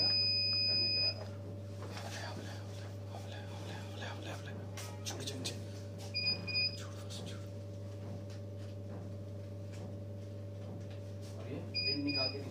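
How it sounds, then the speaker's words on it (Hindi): A 5-in-1 combo heat press printing machine sounds its timer with a high electronic beep at the start, repeated in short bursts twice later, over a steady machine hum while a person speaks quietly nearby. "ये बीप का साउंड जैसे आता है"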